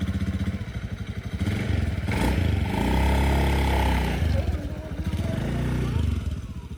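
A motorcycle engine in El Nido, Palawan, heard close with a pulsing idle that rises into a revving hum and then settles back, while people talk over it.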